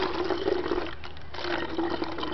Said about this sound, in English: we're going to put this 2-liter bottle full of water.